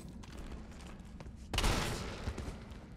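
A shotgun fires in the Resident Evil 3 Remake video game: one loud, sharp blast midway, followed by a rumbling decay over a steady backdrop of game ambience.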